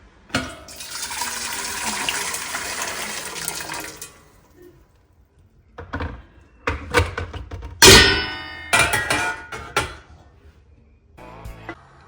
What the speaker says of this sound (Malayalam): അതിനുവേണ്ടി നമ്മൾ അപ്പച്ചമ്പിൽ വെള്ളം ഒഴിച്ച് സ്റ്റീം ചെയ്യാം